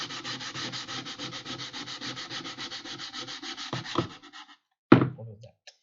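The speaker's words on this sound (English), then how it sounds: "And now we are going to sand what's left. Let's go with the lower grit" Rhythmic back-and-forth scraping of coarse, lower-grit sandpaper on a hobby model being prepped for airbrush painting, steady strokes for about four seconds before a couple of knocks and a sharp clunk near the end.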